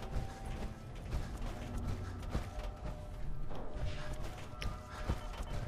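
A remote-controlled door in Fallout 4 works its opening mechanism with a run of ratcheting, clanking and creaking mechanical clicks. The sound is steady and moderately loud throughout, with irregular metallic knocks mixed in.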